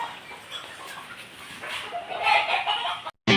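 A mother hen clucks over her chicks nearby, a steady stream of soft fowl calls that cuts off abruptly just before the end.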